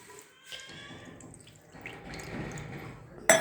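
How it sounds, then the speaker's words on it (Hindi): Two cups of water being poured into a pan for Kashmiri tea, a soft trickling and splashing that builds gradually, ending with a brief clatter. "कश्मीरी चाय के लिए हमने 2 कप पानी लेना है।"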